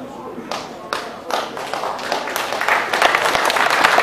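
An audience at a boxing event breaks into scattered applause that grows denser and louder, under an announcer's voice.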